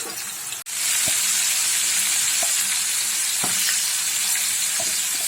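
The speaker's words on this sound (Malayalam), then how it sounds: "എണ്ണ ചൂടായിട്ടുണ്ട്. ഇനി ഇതിനകത്തേക്ക് നമുക്ക് ചിക്കൻ ഇട്ട് കൊടുക്കാം." Chicken pieces fry in hot oil in a pan, a steady, close bright sizzle with a sharp burst at the start and soft clinks of stirring every second or so.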